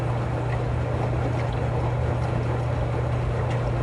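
A washing machine runs steadily, a constant low drone with a pronounced hum and broadband wash noise that holds at an even level throughout, with no talking.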